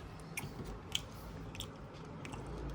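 Someone biting and chewing food to check whether it is cooked, faint close crunchy bites at irregular intervals over quiet room noise.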